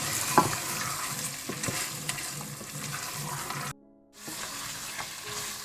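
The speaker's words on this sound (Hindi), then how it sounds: "इसके बाद आप गोश्त को अच्छी तरह से भून लें।" Mutton for bhindi gosht sizzles loudly in the pan as it is stirred, with a steady frying hiss and scraping strokes. The sound cuts briefly to silence partway through, and no one speaks.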